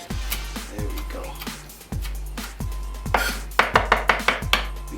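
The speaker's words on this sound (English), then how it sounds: "We're gonna give that just a small chop" A knife chopping fresh thyme on a cutting board, a series of sharp, close thuds that start spaced out and quicken into a rapid run near the end, with a voice talking over them.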